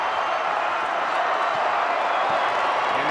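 Crowd at a high school basketball game roaring after a three-pointer, a steady wash of cheering and clapping filling the arena for a few seconds.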